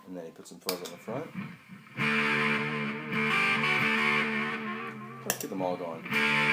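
An electric guitar runs through a fuzz pedal in a DIY parallel mixer setup, producing a thick, buzzy, distorted sustained tone that swells between quieter plucked notes.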